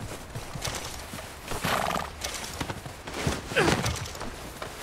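A horse in a video game moose-hunting scene clip-clops along in close, uneven hoofbeats, letting out a couple of loud whinnies partway through.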